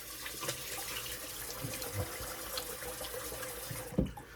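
Running tap water rinsing alum from the face during a straight-razor shave: a steady, moderately quiet splashing stream with small drips and a brief thump near the end, no talk.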